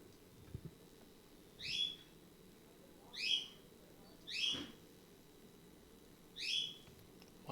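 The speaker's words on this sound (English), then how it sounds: "Why is my bird so loud?" Pet bird gives four loud, clear whistled calls spaced about 1.5 seconds apart, each a short rising-and-falling note standing out over a quiet room background.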